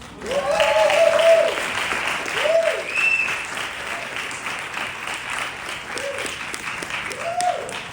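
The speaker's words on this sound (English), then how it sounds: "Let's give her another round of applause" Sustained applause from a crowd, steady and full, with a few voices and whoops rising above the clapping.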